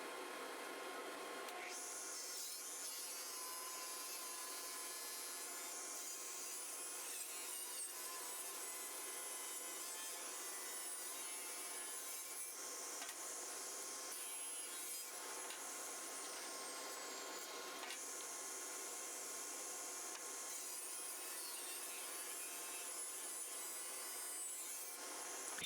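A power saw cuts walnut wood pieces for an end grain butcher block cutting board, with a continuous high, whining rasp that runs through the clip and changes pitch as it bites the wood.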